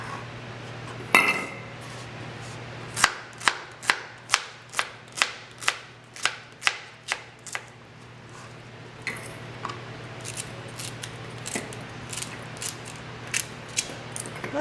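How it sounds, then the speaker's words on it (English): A knife chopping okra by hand without a chopping board for West Indian callaloo, a run of sharp, evenly spaced clicks close by, then lighter, more scattered taps, with no talking. "Right, so chopped ochros with our dasheen bush"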